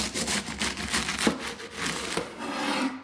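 A bread knife trims the burnt edges of baked tart pastry in rapid, rhythmic scraping strokes, close and continuous for a few seconds.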